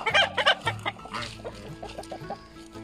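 Free-range Luhua hens in a navel orange orchard, several loud close clucks at the start followed by softer, rapid clucking calls.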